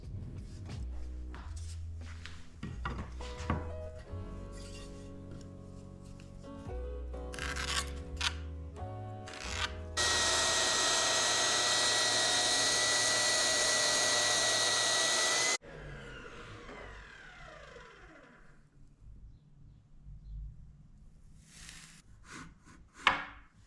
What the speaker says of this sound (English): I'll cut those miters